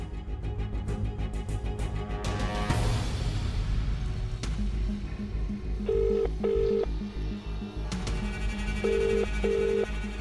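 Electronic tones from a phone being dialed, short beeps in quick pairs over a background of music and murmur, near and fairly loud.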